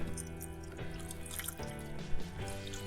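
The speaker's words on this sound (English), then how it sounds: "So now we're just going to pour clear water on here" Clear water poured over a corroded car battery, a soft steady splashing and dripping with small irregular drops close by, no talking.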